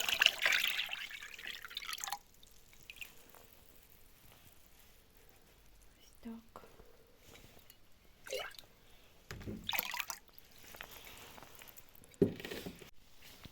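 Liquid fertilizer poured from a one-litre jar onto strawberry plants on a cold, rainy day, heard as a splashy pour at the start, then scattered drips and splashes with quiet gaps.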